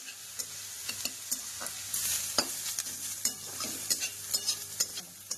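Onions fry in a pan toward brown, a bright continuous sizzle close by, with frequent scraping stirs of a spoon and no voices.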